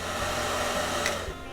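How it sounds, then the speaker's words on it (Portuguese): A hair dryer blowing steadily on a car sticker to heat and soften its adhesive, a close, continuous broadband whoosh with no talk. "Você liga o secador e aplica em cima do adesivo"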